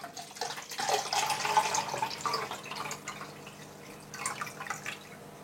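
Half a litre of salt water pours into a container, a splashing, trickling stream with drips that swells and then tapers off, followed by a few smaller splashes.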